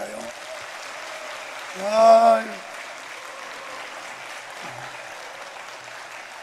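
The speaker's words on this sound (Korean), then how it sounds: "한 번 더 영광의 박수 하나님께 올릴까요?" A church congregation claps in praise to God during a Sunday service, broad sustained applause under a voice that briefly cries out in the middle.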